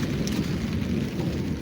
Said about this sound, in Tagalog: Hindi pa na alas 4, ulan na.